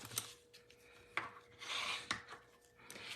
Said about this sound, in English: So I'm going to fold this in half and burnish it down.